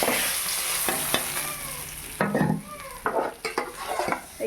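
Katla fish frying in a pan, an oily crackling sizzle broken by a few sharp scrapes and clinks of a spatula stirring and lifting pieces, close and moderately loud.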